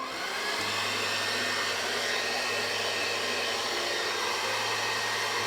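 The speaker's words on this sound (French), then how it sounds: "Avec un sèche-cheveux, je vais venir en position froid et je vais venir sécher donc" A hair dryer on its cold setting blows steadily over a layer of liquid latex, a continuous close whooshing airflow with a low motor hum running throughout without pause.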